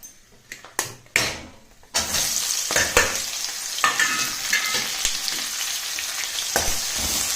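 Onions fry in hot oil with whole spices like cloves and star anise for a home-style veg biryani, a loud close sizzle with scraping stirs, after a few sharp clatters of ingredients going into the pan, with no talk.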